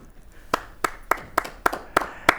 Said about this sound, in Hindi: तालियों से स्वागत कर सकते हैं कविजन हमारे जो सहयोगी